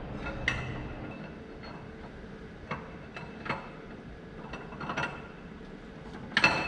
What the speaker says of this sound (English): And you can pull the shaft through.